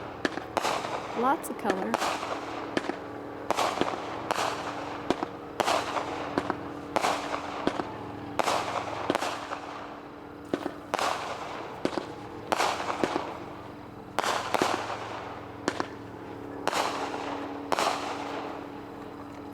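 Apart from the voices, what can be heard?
Bump Bear 16-shot firework cake going off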